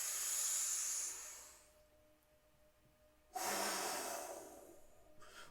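Deep, slow breathing in a guided meditation: a long airy exhale trails into quiet, then a strong inhale starts and fades. The breath is close and alone, with no talking.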